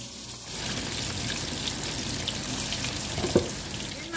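Beef fries in a pan of simmering broth that is cooking down, giving a steady, dense sizzle and bubbling hiss close by, with a faint knock near the end.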